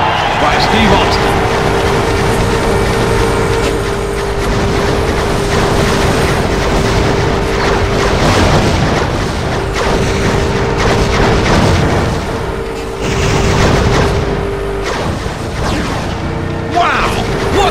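Loud game sounds from WWE Crush Hour, a GameCube vehicle combat game played on a modded Wii U: booming crashes and gunfire over a steady engine drone, with a commentator talking over the action.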